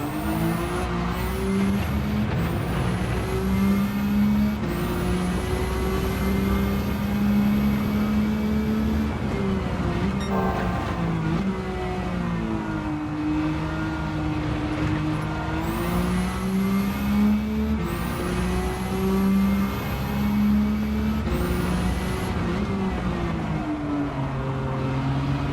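Nissan GT-R R32 tuned to 700PP in Gran Turismo 7, its engine revving hard and steadily, with rising and falling pitch as gears change and the throttle lifts, loud and continuous throughout with no talking.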